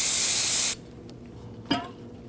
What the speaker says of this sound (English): let's go ahead and grab some spray solvent and clean this up